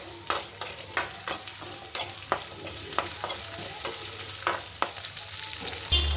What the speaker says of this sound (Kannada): ಹುಣಸೆ ಹಣ್ಣು ಮೆಣಸಿನ್ಕಾಯಿ ಇದರಲ್ಲಿ ಸ್ವಲ್ಪ ಫ್ರೈ ಆಗಲಿ